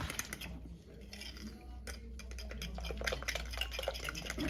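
Sourdough ingredients being mixed in a bowl, with scraping and tapping sounds from a utensil against the bowl, close and fairly quiet, over a low background hum.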